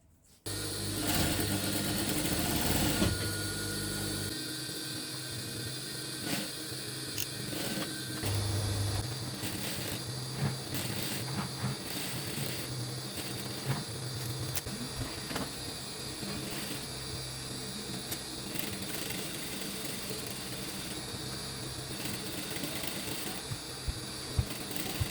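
A sewing machine runs steadily, attaching a structured appliqué to a blouse, with a continuous close mechanical whir and rattle throughout and small ticks and clicks over it.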